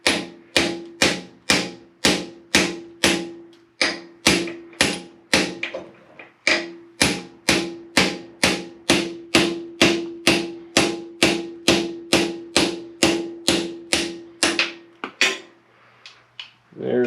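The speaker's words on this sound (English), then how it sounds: "what I do have is a small ball peen hammer and a larger one" A ball peen hammer knocks out a U-joint in a long run of sharp metallic strikes at a steady, even pace, about two per second. The hammering is close and loud, with a short pause partway through.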